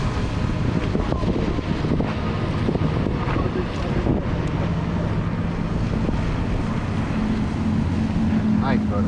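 Steady engine drone of motorboats on open water at Matanzas Inlet, Florida, heavily mixed with loud wind buffeting the microphone throughout.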